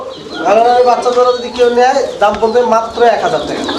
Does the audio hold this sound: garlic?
no